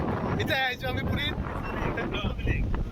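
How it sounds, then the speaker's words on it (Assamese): Night wind on a sea beach buffets the microphone in a steady, rough rumble. A voice talks briefly over it. "কি ধুনীয়া বতাহ দি আছে মানে।"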